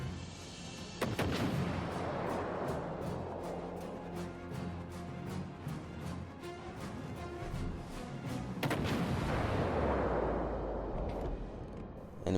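Heavy naval gunfire from the USS Iowa battleship in World of Warships Legends, a loud booming volley near the start and another around two-thirds through, with rumbling, continuous battle noise between.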